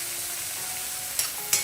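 Tomato sizzles steadily in hot oil in a pan for brinjal masala, a constant close frying hiss broken by two quick scraping stirs near the end.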